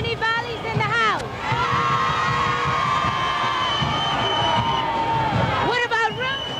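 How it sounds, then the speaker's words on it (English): A dense crowd at a Junkanoo street parade on New Year's Day in 1998, steady cheering and babble with piercing whistle-like tones and a throbbing low drumbeat beneath, with someone talking close by over the noise. "each of the groups have their different cheering crowds"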